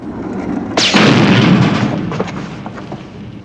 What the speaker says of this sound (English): He gives him a fountain pen that's also a rocket launcher